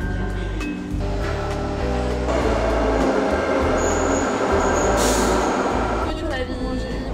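A metro train ride in Australia, heard from inside the carriage as a loud, continuous rumble of wheels on rails with a brief high squeal partway through.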